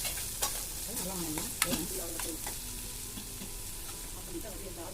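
A frying mixture being stirred in a pan after coriander leaves are added for a Tamil kara kuzhi paniyaram batter, with steady close sizzling and a few sharp spoon scrapes and clinks against the pan.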